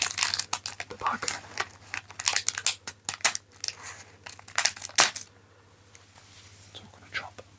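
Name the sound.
cutting open a plastic LEGO bag with scissors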